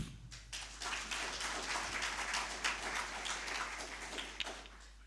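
An audience at a university scientific conference applauds a professor with dense, even clapping that sounds faint and distant, sustained for about five seconds over a low steady hum.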